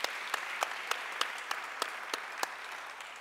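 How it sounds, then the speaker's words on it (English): An audience claps for a panel at a health conference, sparse, evenly spaced claps of moderate loudness that thin out gradually, with no voices over them. "I want to give a significant round of applause for my dream panel."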